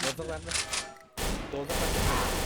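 Rapid gunfire from a Silver ARX16 rifle in the online shooter XSHOT, loud bursts of shots in quick succession with a brief pause midway, mixed with someone talking excitedly.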